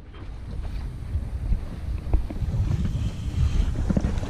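A sailboat glides under light wind on the Mediterranean off Cassis, with gusty wind buffeting and soft water wash throughout and no talking.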